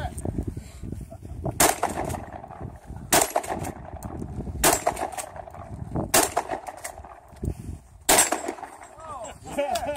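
Shotgun firing 3.5-inch double lock shells outdoors at a winter bushcraft gathering in central Oregon: five loud, sharp blasts spaced about every one and a half seconds, with people talking between shots.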